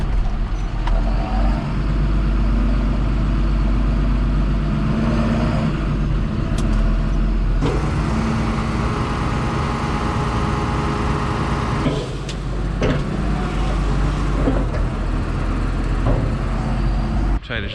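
Tractor pulling a muck trailer across a farm near a maize field, a loud steady diesel engine drone running throughout with shifts in load, while someone talks over it now and then.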